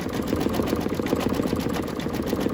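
An embroidery machine stitches a turkey mug rug through vinyl and fabric, a fast, steady mechanical chatter of needle strokes running evenly throughout, close and alone.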